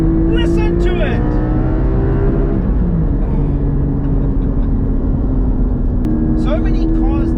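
A Porsche Cayman GT4 engine while driving, loud and close, rising through the revs, then dropping on a shift and building again, with steady road roar underneath and no talk.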